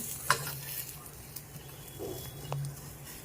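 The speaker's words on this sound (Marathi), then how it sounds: "खजूर, हे सर्व घालून आपण चांगलं मिक्स करणार आहोत।" Dates, sliced nuts and other sheer khurma ingredients are stirred in a pan for the sweet dish, giving soft, faint scraping and shuffling with a couple of light clinks, close by and alone.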